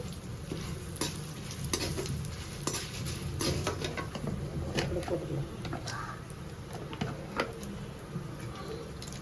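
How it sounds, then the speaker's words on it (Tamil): Dried red chillies and lentils fry in oil for tamarind rice, giving a soft continuous sizzle with repeated clinks and scrapes of a stirring spoon against the pan. "பருப்பில் நல்லா வறுப்பட்டதும் காஞ்ச மிளகாய் சேர்த்துக்கிறோம்"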